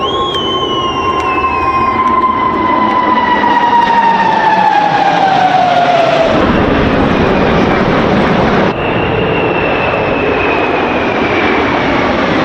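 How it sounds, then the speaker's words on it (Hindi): American military jet aircraft roar loudly overhead during an Independence Day event in Washington, D.C., a sustained, powerful engine drone with a falling whine as they pass. "आसमान में अमेरिकी विमान गर्जना कर रहे हैं।"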